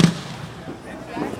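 Single faint firework boom far off, a dull low thump right at the start, followed by quiet ambience with people talking nearby.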